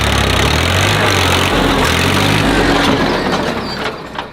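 A tractor engine runs with a rotavator attached, mixing soil and fertiliser in a field, a loud steady mechanical drone close by that eases off slightly near the end, with no talking.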